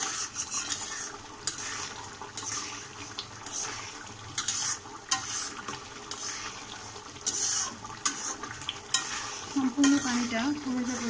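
Fish belly and bitter gourd are stirred and sautéed in a pan as the liquid cooks down, with repeated sharp scraping strokes at an uneven rhythm over a continuous bubbling sizzle, close up, with no talking.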